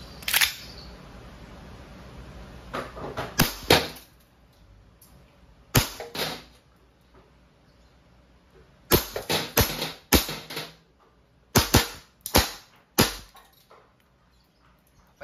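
A full-metal silver WE 1911 Classic Type A gas blowback airsoft pistol fires a series of sharp, crisp cracks, some single and some in quick clusters, with near-silent pauses between them.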